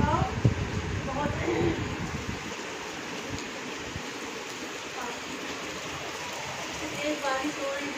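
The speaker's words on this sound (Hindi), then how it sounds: "देखिए बारिश इतनी तेज़ हो रही है" Heavy rain falls steadily during a trip to Neemrana, Rajasthan, a broad constant wash that stays loud throughout, with voices and some lower rumbling noise heard early on.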